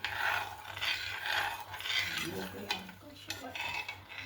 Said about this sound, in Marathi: आता ती साखर याच्यात विरघळून थोड्या वेळ हलवते त्याला